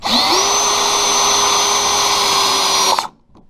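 A power drill drives a screw into a wall stud, whining steadily at close range for about three seconds, its pitch holding constant, then stops abruptly.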